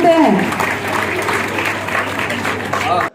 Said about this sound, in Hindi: तालियां बजाइए जोर से